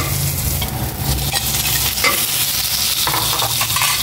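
Chili oil stirred in a frying pan, with a loud continuous sizzle and repeated scraping strokes of a spoon or spatula close by. No one speaks.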